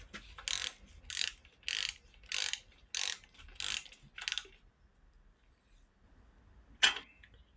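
Ratchet cranking on cylinder head bolts of a VW 1776 engine during a rebuild, six distinct close bursts of clicking in steady rhythm, then quiet and a single sharp click near the end.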